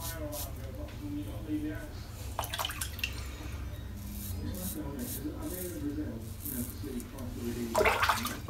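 Water runs and splashes during rinsing after a head shave, a continuous close flow with drips and sloshes, under a voice speaking.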